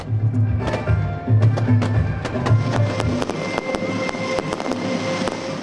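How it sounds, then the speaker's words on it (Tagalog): Fireworks at a Manila New Year community display burst in a steady series of sharp cracks and pops, some near and loud, others more distant, with a low rumbling hum beneath. "nagliwanag ang paligid sa makulay at maingay na community fireworks display"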